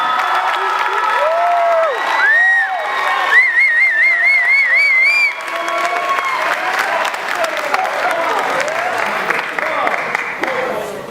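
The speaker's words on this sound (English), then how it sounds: "will you give me a rounding, warm applause for none other than Professor Sherman Brown" An audience at a 2013 commencement ceremony applauds warmly, sustained clapping with whoops and a few whistles rising above the crowd, loud and near.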